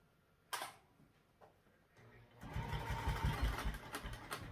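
A sewing machine top-stitches a backpack seam, starting with a few faint clicks and then running steadily and loudly from midway to the end, close to the microphone.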